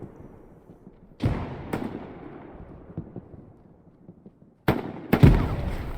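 Shots ring out during an 18-versus-18 multiplayer war game match on a derailed-train map: about four sharp cracks, two early and two near the end, each trailing into a long echoing decay over quiet ambience.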